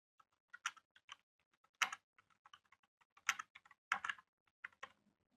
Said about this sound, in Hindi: यही हम इसको टाइप कर देते हैं